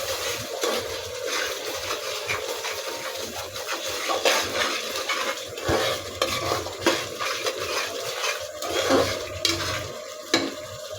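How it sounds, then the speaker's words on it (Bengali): A spoon stirs salt into a pot of raw jackfruit and beef curry, making repeated scraping and rubbing strokes against the pot over a soft simmering sizzle. "লবণটা দিয়ে ভালো করে মিশিয়ে দিব।"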